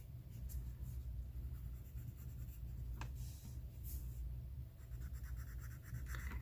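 Steady, faint scratchy strokes of a pencil shading large areas on paper for a beach drawing, continuous soft rasping over low room hum with no speech.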